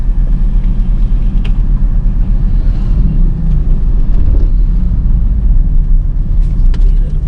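A car is driven in first gear during a driving lesson, heard from inside the cabin as a loud, steady, low engine and road rumble throughout.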